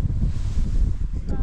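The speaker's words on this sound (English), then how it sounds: "It's a bit too windy for the tent box. That was flapping all over the place." Strong seafront wind buffets the microphone at a campsite at John O'Groats, a loud continuous low roar and rumble where a tent box or tarp was flapping, with no talk.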